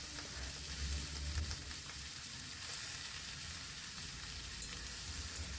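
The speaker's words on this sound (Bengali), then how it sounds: "উঠিয়ে আর কেটে রাখা লাউ, ধুয়ে রাখা লাউগুলো এর মধ্যে দিয়ে দিলাম।" Washed bottle gourd pieces sizzle steadily in hot oil in a pan where lentil dumplings were just fried, with a continuous, close, even frying hiss throughout.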